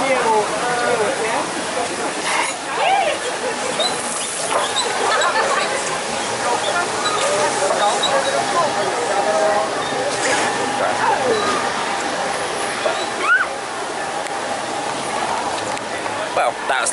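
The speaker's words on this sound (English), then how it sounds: "That's the rapids and the little pull yourself along." Rushing water from the rapids ride at Europa Park theme park, a steady broadband wash heard from nearby under continuous crowd chatter and distant park noise.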